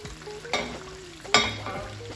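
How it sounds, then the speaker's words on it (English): Marinated prawns sizzle and crackle in a hot pot, a steady close frying hiss with two sharper surges as they are stirred. "Our prawns are into the heating pot here"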